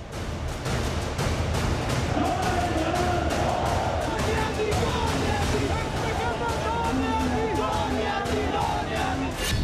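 A large crowd at a political rally in Pakistan, a dense continuous roar of many voices with rising chants and shouts, loud and unbroken throughout.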